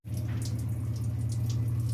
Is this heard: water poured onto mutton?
yes